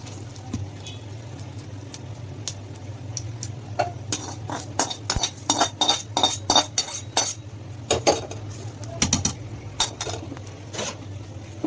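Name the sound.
mixing fried chana dal, mustard seeds, curry leaves into rava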